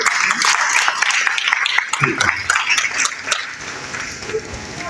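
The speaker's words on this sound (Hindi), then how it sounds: "तो जोरदार तालियों से स्वागत किया जाए" An audience claps to welcome a guest at a gathering, a burst of scattered, close handclaps mixed with crowd noise and voices, thinning out toward the end.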